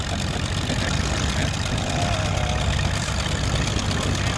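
Antique tractor pulling a two-bottom International plow, giving a steady, loud engine drone with an even low rumble throughout and no talk.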